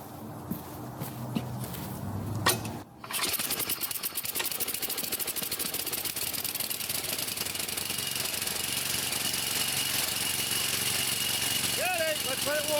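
A 22-year-old Craftsman 30-inch riding mower with a Tecumseh 11hp cast-sleeve engine starts on full choke and runs steadily, a loud continuous drone that holds through to the end after a brief quieter stretch with voices at the start.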